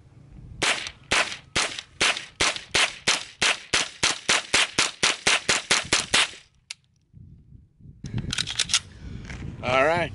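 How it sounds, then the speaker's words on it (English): About twenty rapid, evenly spaced gunshots from a gun fitted with a brand-new CMMG conversion kit, sharp and loud at an outdoor range, followed by quieter handling noise and brief talk. "This will be the first time that I fired this conversion kit."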